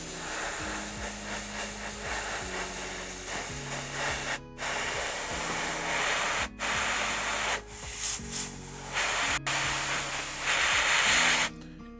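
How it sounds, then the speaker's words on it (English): Paint sprayed onto a miniature model base, a close continuous hiss in short bursts separated by brief gaps, with a faint musical hum underneath. "I'm just going to start spraying the areas that we want."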